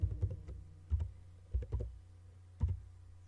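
Keystrokes on a computer keyboard while entering MATLAB code, a few soft, close clicks in small irregular bursts separated by quiet pauses, no voices.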